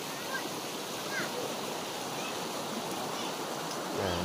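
Continuous broadband rush of flowing river water, steady and fairly close, with no distinct voices standing out.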